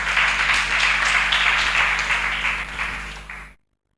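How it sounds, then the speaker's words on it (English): Applause from an audience at a university innovation week event fills the space, dense and sustained, then fades and cuts to silence near the end. "Let's give them a clap."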